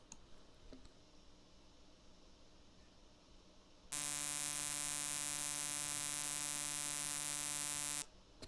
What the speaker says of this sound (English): that was just the output a sigma delta modulator would give